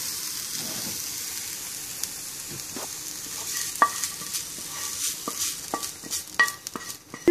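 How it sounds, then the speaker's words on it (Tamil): Grated coconut and coriander are worked into paniyaram batter with soft wet stirring and light scraping. A low hiss runs underneath, and a few sharp utensil clicks and knocks stand out near the end. No one speaks. "மாவில் இதை நல்லா மிக்ஸ் பண்ணி விட்டுக்கோங்க."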